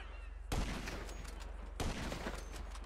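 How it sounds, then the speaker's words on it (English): Sniper rifle fire in the video game GTA 5 Online, two loud booming shots about a second apart over a steady low in-game background hum. "Then we're going to pull out the sniper rifle"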